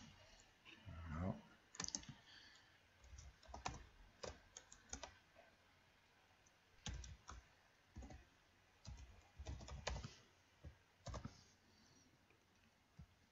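Irregular bursts of computer keyboard typing, with clustered key presses and clicks, sound close and quiet against a faint background hum.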